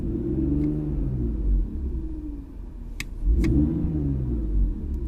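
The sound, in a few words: BMW E46 engine revving with underdrive pulleys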